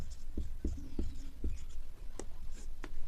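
Chalk or marker taps and scratches on a board in short, irregular strokes, a quiet writing sound with faint room noise and no clear talk.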